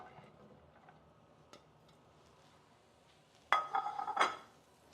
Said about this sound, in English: And into that, I'm going to add all of my vegetables